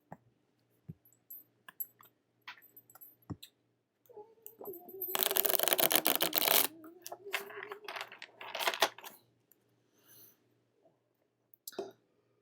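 A deck of cards is shuffled for a reading, starting as scattered soft taps, then a dense riffling burst lasting a couple of seconds, followed by lighter handling clicks, close and quiet.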